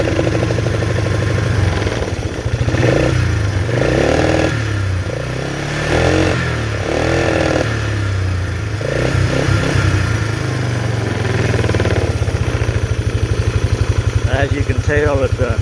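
A Polaris Trail Boss 325 ATV engine with a suspected carburetor problem revs at full throttle, a loud, steady, close-up drone with pulsing surges throughout; someone talks over it.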